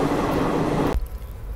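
Interior of the moving Azad Hind Express passenger train, a loud continuous rumble of wheels on track with rhythmic rattling, cut by a sudden drop where the roar becomes more muffled.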